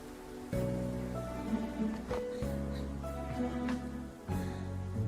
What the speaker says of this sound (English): Ren is caught out in the rain on his first official date at Shujin Academy